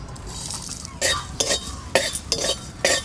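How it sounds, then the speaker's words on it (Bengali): Dried chilli, cardamom, coriander and cumin are dry-roasted in a pan, heard as a few brisk scraping stirs and clinks of a spatula in irregular bursts, fairly close, with no talk. "আমি কিছু মশলা ভেজে নেব।"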